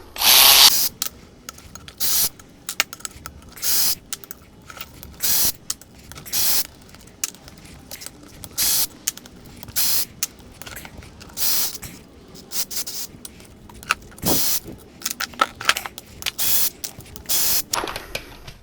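Power tool or impact gun backing out the perimeter case bolts on a Honda L15B7 Civic transmission, in a long series of short bursts with brief pauses between them, close and fairly loud with no talking.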